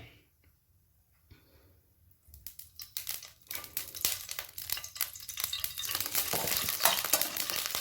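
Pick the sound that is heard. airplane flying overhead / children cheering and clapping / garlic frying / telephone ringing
garlic frying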